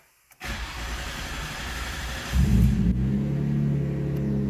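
A Nissan R33 GT-R engine cranks and catches, then settles into a steady, rumbling idle that grows deeper and louder after a couple of seconds.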